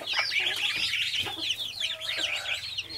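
Black copper Marans chicks peeping and clucking in a farm coop, a busy chorus of high, rapid chirps close by with continuous overlapping calls.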